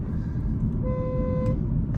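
A faulty Audi S5 Sportback horn sounds a weak, thin steady tone for under a second over loud engine and road rumble, sounding strained rather than a full honk.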